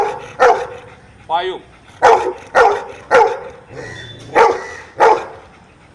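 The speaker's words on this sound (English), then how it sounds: "Here is a dog. This dog is from Lucknow." A dog from Lucknow barks in a series of sharp, loud barks at a steady, roughly even rhythm, with one short whine among them and a voice counting aloud.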